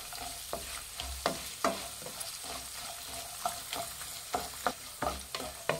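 Turmeric fries in about four tablespoons of hot oil for lemon avalakki, a continuous close sizzle punctuated by repeated spoon scrapes and taps against the pan, with no voices.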